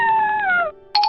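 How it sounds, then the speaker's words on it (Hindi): A cartoon fox cries out in pain after being attacked by crows, a loud falling wail followed by a brief gap and then a sharper, higher yelp. "लोमड़ी को कौवों की मार से दर्द हुआ और वो चिल्लाने लगी।"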